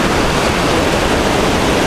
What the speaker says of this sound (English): Yep, that was a wave.